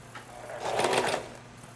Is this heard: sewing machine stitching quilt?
yes